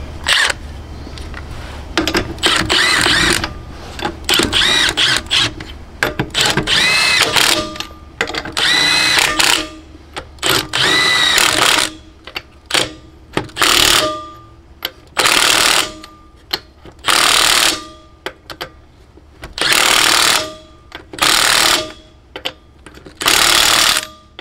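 A Milwaukee M18 half-inch mid-torque Gen 2 friction-ring impact wrench hammers away loudly up close, first in long continuous rattling runs, then in a series of short, evenly spaced bursts separated by brief pauses.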